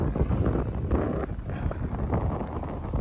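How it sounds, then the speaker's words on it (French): Wind buffeting an outdoor microphone, a steady loud rumbling roar with gusty swells throughout and no talk. "Il y a du vent."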